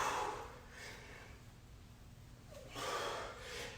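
Heavy, ragged breathing from a man short of breath during exercise, a few close gasping inhales and exhales that come in quick bursts, with no words.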